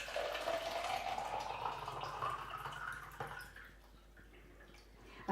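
Filtered water pours into a container while a gum arabic carrier for watercolour paint is made, a close, steady splashing stream with a rising fill tone that tapers off after about three seconds.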